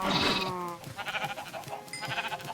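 Sheep bleat several times in quick succession in Minecraft, a wavering nasal call followed by shorter bleats, fairly close and clear with a synthetic, game-like quality.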